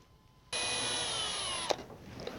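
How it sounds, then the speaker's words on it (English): A power drill drilling a pilot hole in a 5th Gen Toyota 4Runner rear hatch starts abruptly and whines steadily for about a second, then stops with a brief clunk, leaving a quiet room. "I will go ahead and use my pilot drill, and I will drill my first hole"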